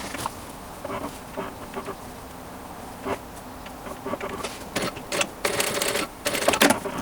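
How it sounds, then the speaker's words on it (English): A sewing machine stitches a short run down a T-shirt V-neckline, a soft rapid mechanical patter that grows louder and busier toward the end, with light fabric handling around it. "now with the rotated fabric, we will sew from this stitch right here a few centimeters down here"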